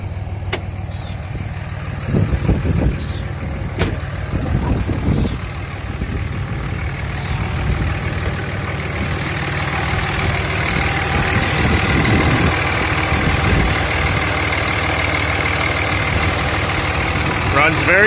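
A 2003 Dodge Ram 2500 with the 5.9 Cummins diesel starts up with a few sharp knocks, then settles into a loud, steady idle with a low clattering rumble, nearby and continuous.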